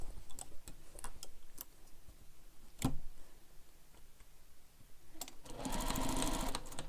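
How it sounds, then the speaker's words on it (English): A sewing machine stitches the top straight edge of a backpack, with scattered ticking and clicking at first and then a steady, loud whirring run near the end, with no talk. "So now we're going to sew this top straight edge using the seam allowance"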